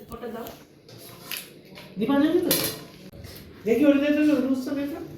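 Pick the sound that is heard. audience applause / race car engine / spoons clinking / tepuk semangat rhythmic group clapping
spoons clinking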